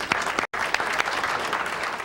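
Audience applause greets Judge Michael Chertoff at an evening legal-community event, a dense steady clatter of many hands with a brief dropout near the start, otherwise continuous and fairly loud.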